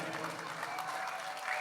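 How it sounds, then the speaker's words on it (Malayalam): Audience applause for a children's dance performance at Keralolsavam 2024: a steady, soft wash of many hands clapping, fairly distant and even throughout. "അതിനെല്ലാവർക്കും വലിയൊരു കൈയടി തന്നെ കൊടുക്കണം നമ്മുടെ ഭാഗത്തു നിന്നും."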